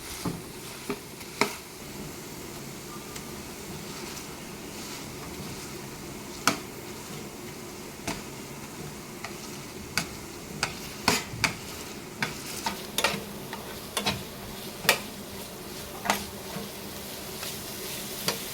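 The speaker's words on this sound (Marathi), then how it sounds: "याला व्यवस्थित मिक्स करून घ्या आणि याला थोडं मॅशरने मॅश करून घ्या" A masher and spoon work through a spiced vegetable mixture for masala pav in a pan, giving a soft continuous sizzle broken by frequent irregular taps and squishy clacks, close up with no talk.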